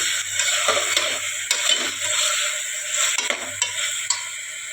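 Turmeric, chili powder, salt and garam masala being stirred in a pot of masale bhaat over a steady sizzle, with soft scraping strokes and a few light clinks of a spoon against metal.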